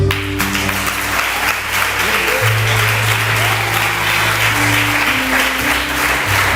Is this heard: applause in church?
yes